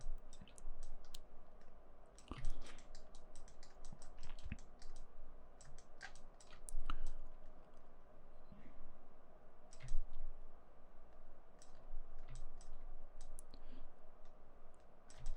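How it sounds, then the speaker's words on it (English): Computer keyboard keys and mouse buttons clicking in scattered bursts at close range, crisp taps repeating irregularly throughout over a low steady room hum, with no talking. "So I'll hit enter on the keyboard."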